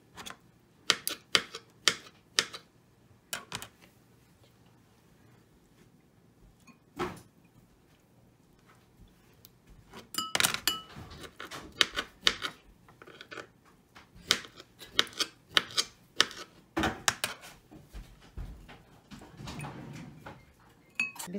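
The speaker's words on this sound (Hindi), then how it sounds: "कुछ पीसेस में काट लेंगे इनको" Knife slicing fruit slices into small pieces on a board in a kitchen: irregular sharp chopping taps, sparse at first and then in quicker clusters, close and fairly quiet with no talk.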